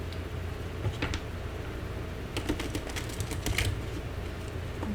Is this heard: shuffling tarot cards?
yes